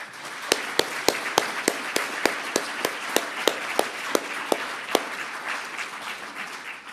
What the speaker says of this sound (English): we should give these candidates a round of applause